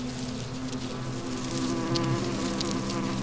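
A colony of bees at a forest nest in South Korea makes a thick, continuous buzzing close by, with a few individual insects droning louder as they pass near, and no voices.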